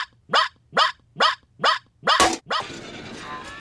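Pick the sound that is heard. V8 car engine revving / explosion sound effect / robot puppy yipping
robot puppy yipping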